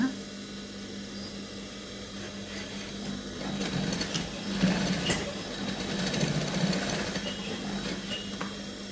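A sewing machine stitches a small piece of lace, its motor whirring and needle chattering steadily and fairly close, louder after a quieter opening stretch.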